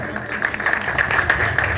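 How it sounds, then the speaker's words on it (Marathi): Audience clapping at a Republic Day gathering honouring a local Shiv Sena former corporator, a brief burst of dense, close applause with a voice faintly underneath. "आपल्या टाळ्या जोरात टाळ्या वाजवत असाल"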